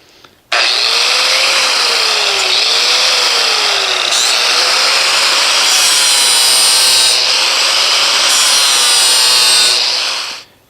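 A gator mower blade is ground on a power sharpening tool for about ten seconds, a loud continuous high grinding whine with a slowly wavering pitch, briefly interrupted a few times as the blade is repositioned.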